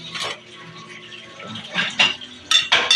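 A spoon clinks and scrapes against dishes while food is portioned during home cooking, producing several close, bright metallic taps and chinks with short pauses between them.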